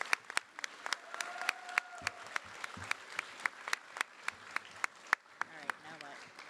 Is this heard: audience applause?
yes